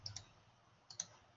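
Two faint computer mouse clicks, sharp and close, each a quick double tick, spaced nearly a second apart in an otherwise quiet room.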